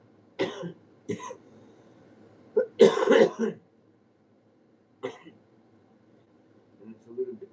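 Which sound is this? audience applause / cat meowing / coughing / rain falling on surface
coughing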